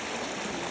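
Steady, continuous rush of water from a waterfall in Buscalan in the mountains, a broad even hiss with no pauses and no voices.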